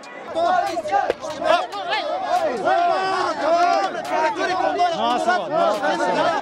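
Agitated crowd in a Bolivian city yelling angrily at a man, many overlapping raised voices and shouts close by, continuous and chaotic throughout.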